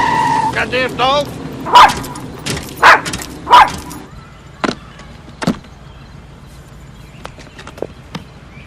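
A dog lets out a handful of short, loud barks in quick succession, then a few sparser ones fading off, with a person speaking over the start.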